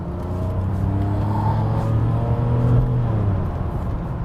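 A V12 Mercedes CL600 (C140) pulls under acceleration with a steady, rising engine drone and layered harmonics, a smooth continuous roar heard from inside the car with no talking.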